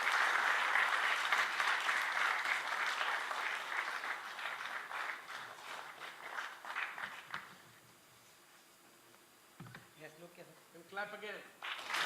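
Audience applause at a book launch at the Nehru Memorial Museum & Library in New Delhi fills the first seven seconds as steady indoor clapping, then fades to a quiet room with a few scattered claps and a voice near the end.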